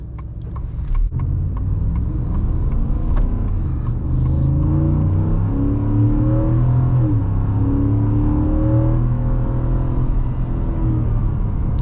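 Deep V8 engine rumble building as a 2026 Ford F-150 Lobo pickup accelerates in sport mode, revs climbing through held gears, heard from inside the cab, loud and steady with no talking.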